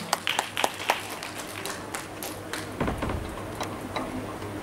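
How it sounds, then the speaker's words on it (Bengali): Sparse, uneven clapping rises from an audience in the Rabindra Sadan theatre in Baharampur for a dancer, with individual claps heard distinctly rather than as a full ovation. "তার নৃত্য পরিবেশনের জন্য একটা জোরে হাততালি ইন্দ্রাণীর জন্য"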